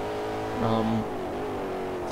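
Supercharged Audi RS2 Avant engine in Forza Motorsport 4 droning steadily, with a brief louder rev surge partway through before settling back to a constant hum.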